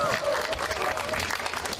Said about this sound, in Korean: 우리 후보자님들께 다시 한번 큰 박수 부탁드립니다